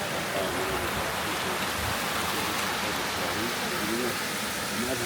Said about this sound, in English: I'm on a waterfall